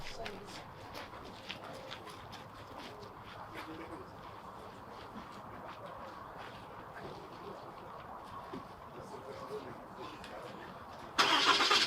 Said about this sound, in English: So, I got to turn on the truck.